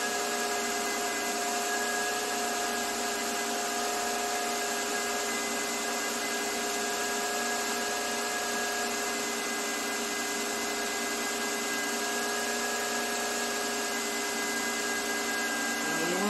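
A Toyota RAV4's 3.5-litre V6 engine (2GR-FE) drones steadily with a constant high-pitched whine and rattling, loud and unbroken throughout, with no talking.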